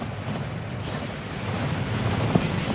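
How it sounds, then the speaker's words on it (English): The Thief's Downfall waterfall in Hogwarts Legacy rushes with a constant, dense roar of falling water that swells slightly toward the end. "That waterfall washes away all enchantments."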